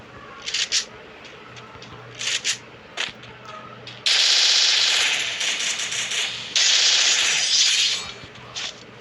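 MP40 submachine gun fire in a video game, with a few short isolated bursts followed by two long sustained bursts of rapid automatic fire, loud and close, and no speech over it.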